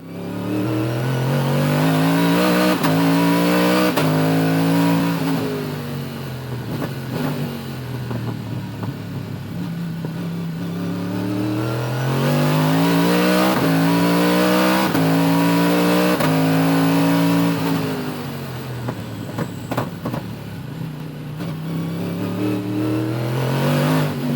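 A pack of race cars accelerates at the start of a twelve-lap National race, engines roaring loud and close, repeatedly climbing in pitch through gear changes for over twenty seconds with no voices.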